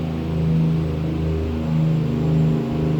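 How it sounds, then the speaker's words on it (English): A truck passing on the road uses its exhaust brake, a low, steady engine rumble with pulsing drone that swells and holds for several seconds, fairly loud and close, with no talking. "That is a long exhaust brake they just used then."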